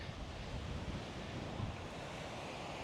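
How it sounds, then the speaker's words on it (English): Steady wind roars and buffets the microphone outdoors on a beach, with a continuous rushing noise and no voices. "as you can see, it's also pretty windy"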